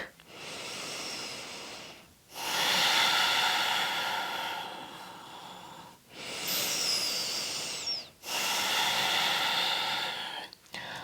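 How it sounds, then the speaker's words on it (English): Slow, audible Ujjayi breaths drawn through the nose during an Ashtanga yoga practice, three long airy hissing cycles each lasting a couple of seconds, close and steady with brief pauses between them and no talking. "Just breathe very slowly through the nose and make sure you can hear your breath"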